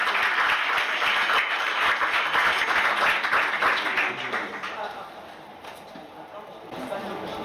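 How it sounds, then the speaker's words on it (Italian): Audience at a gilets jaunes conference in Rome applauds, a dense sustained clapping that swells then thins out toward the end, with voices mixed in. "adesso direi di fare un applauso a Ivan"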